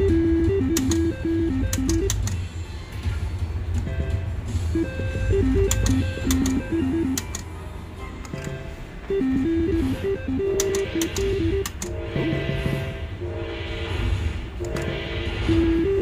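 A $25 slot machine spins on the Borgata casino floor, with electronic melodic chimes and bright beeping tones repeating over a steady low hum of casino machines throughout.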